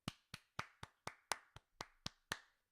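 Ten sharp hand claps in a steady, even rhythm, each a crisp isolated slap with a short decay, close and alone with no talking.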